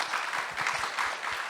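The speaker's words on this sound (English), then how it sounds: "I want to just give you guys all a big warm round of applause." Audience at a talk on AI and creative work clapping in a brief burst of steady, dense applause.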